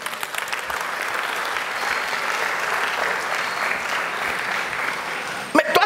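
A church congregation at a Sunday service breaks into sustained applause, a dense, even roar of many clapping hands holding steady for several seconds before a few louder claps at the end.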